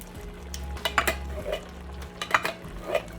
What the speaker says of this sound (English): And I'm tossing my